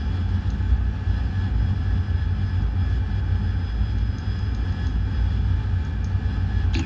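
A KA-50 helicopter flying in a combat flight video game set in a 1996 US invasion of Cuba, a steady loud engine and rotor drone with a low rumbling hum that continues unbroken throughout.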